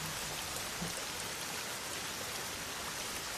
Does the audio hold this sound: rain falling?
yes